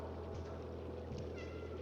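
Cat meowing in the video game Stray, two short faint mews over a constant low background hum.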